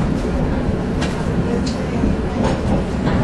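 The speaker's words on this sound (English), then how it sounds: "This is a blue line train to O'Hare." Chicago Blue Line train heading to O'Hare, a continuous loud rumble and rattle from inside the rail car with brief squeals and clacks, plus an automated announcement voice over the noise.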